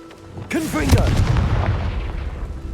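A Confringo blasting spell goes off in the Hogwarts Legacy video game: a sudden loud boom with a crackling burst, a whooshing tail and a low rumble fading over two seconds, with a voice briefly over the start.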